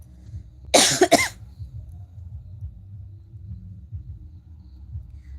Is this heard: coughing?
yes